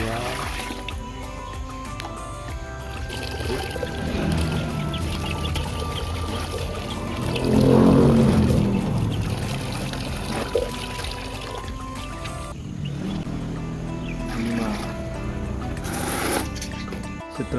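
Water pours steadily into a bucket while mixing nutrient solution, a continuous rushing splash that swells midway, under a constant background hum and people talking nearby.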